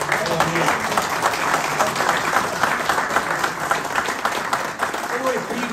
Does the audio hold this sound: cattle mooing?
no